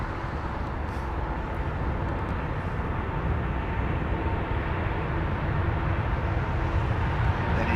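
Airliner engines at take-off thrust at Heathrow, a loud continuous broadband roar that holds steady and swells slightly toward the end, with no voices over it.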